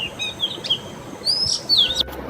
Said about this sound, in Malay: mendengar kicauan burung pipit yang sungguh merdu